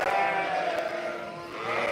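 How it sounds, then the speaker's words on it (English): A Jacob sheep in a pen gives a long, wavering bleat, close and loud, followed by a second bleat starting near the end, with no talk. "one of our Jacob's sheep in this pen here"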